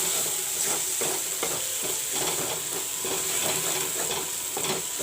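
Masala with turmeric and chili powder sizzles and fries steadily in a pan, a constant crackling hiss with occasional stirring scrapes.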